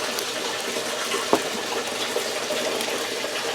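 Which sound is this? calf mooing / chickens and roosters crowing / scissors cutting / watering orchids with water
watering orchids with water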